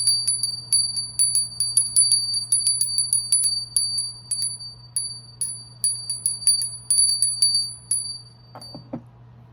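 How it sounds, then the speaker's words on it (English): A small bell rung over and over in quick, uneven bursts, with bright, clear ringing tones that fade briefly between strikes, close and alone in a quiet room, ending with a few soft knocks. "So I'm going to ring a bell to clear the energy."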